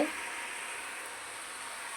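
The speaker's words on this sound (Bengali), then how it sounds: "একদিকে শাক ভাজা হচ্ছে আর একদিকে ভাত ফুটছে" Soft steady sizzling of leafy greens frying in a pan on a gas stove, faint and close, with no talking.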